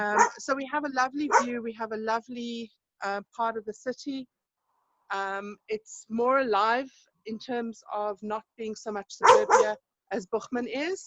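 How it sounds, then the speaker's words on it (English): A pet dog barks intermittently in the background of a home while someone talks steadily over it, the barks partly buried under his voice. "That's my dog barking."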